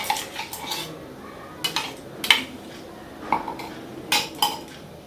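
Egg being beaten with salt and chili in a bowl, a utensil clinking and scraping against the sides in irregular quick strokes, close and fairly quiet, no voices.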